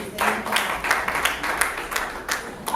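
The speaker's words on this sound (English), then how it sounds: "A round of applause for her, please." Scattered, fairly quiet hand claps from a small studio audience on a talk show, coming in short irregular bursts rather than a full ovation.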